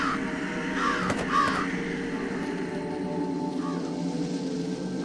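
A few scattered crow caws sound over a steady droning ambience in the Jenny LeClue video game, fairly faint and spaced apart, with no talking.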